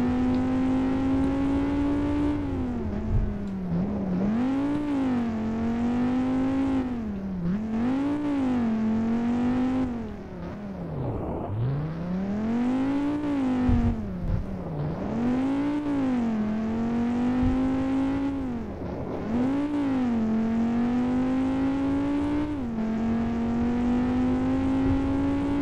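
Race car engine in the Stunt Rally racing game, revving loudly and steadily with rising and falling pitch sweeps as it accelerates, shifts and brakes through the run, with no talk over it.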